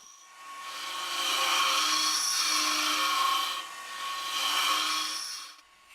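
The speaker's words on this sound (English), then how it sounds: "we're going to take slow, careful cuts while hollowing out the cup" A woodturning tool hollowing the inside of a wooden goblet cup on a spinning lathe, a steady hissing, scraping whir that swells in two long passes, close and continuous with no talk.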